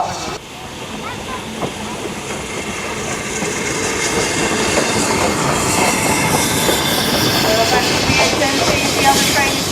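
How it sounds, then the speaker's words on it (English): A privately owned British Railways Standard Class 9F steam locomotive pulls into a station with a loud, steady rumble of rolling wheels, clickety-clack, hiss and faint squeal, building slightly over ten seconds with crowd noise around. "Pulling into the station now is another privately owned steam locomotive"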